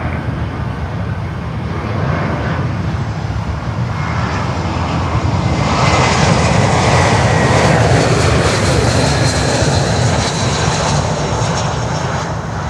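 Large jet airliner taxiing at Miami airport, a loud continuous engine roar and whine that swells slightly partway through, steady and close, with no speech over it.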